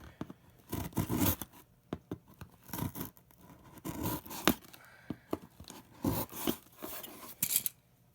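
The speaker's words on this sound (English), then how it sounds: "these wire cutters, especially if you score it with a steak knife first. Beautiful, beautiful cut for a popsicle stick" Wire cutters snipping and crunching through a wooden popsicle stick scored with a steak knife, a series of close, dry rasping cracks and scraping bursts in irregular rhythm.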